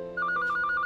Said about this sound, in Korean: 전화가 온다.